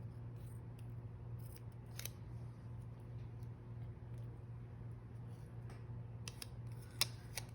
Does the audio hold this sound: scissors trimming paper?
yes